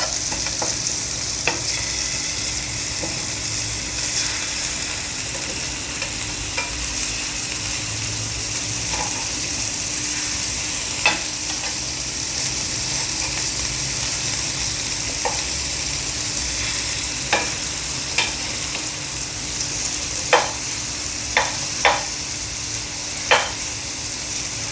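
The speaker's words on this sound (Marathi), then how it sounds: "आपल्याला कबाब पॅनमध्ये शिजायला ठेवून 2 मिनटं झाली आहेत." Chicken reshmi kebabs fry in a hot pan, giving a steady, dense sizzle at close range, broken by scattered sharp clicks and taps of the pan, with no voices.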